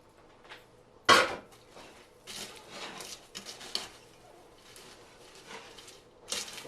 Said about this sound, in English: I want to stir it in and mix it up as best I can